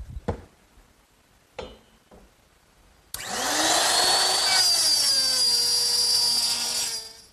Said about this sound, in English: the instructions for my jig tell me to use the same router setup, but this slot to make the female part of the dovetail